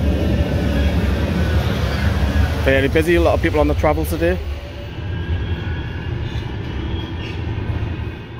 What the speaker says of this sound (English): Here comes the tram. Manchester Airport.